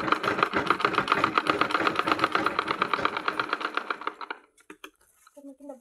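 A sewing machine runs fast and steadily, stitching cloth pieces together with a rapid, even needle rhythm, then stops abruptly, leaving a few soft handling clicks and a faint voice.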